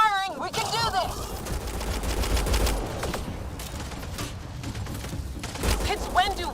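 Sustained gunfire in Mass Effect Andromeda, a dense fusillade of rapid shots with low thumps, while characters shout over the shooting.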